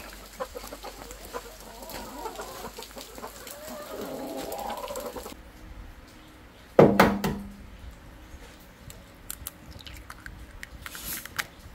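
Chickens cluck and call at a weekend coop as they are herded inside before rain, a steady low chatter with one loud close squawk midway and a few softer calls after.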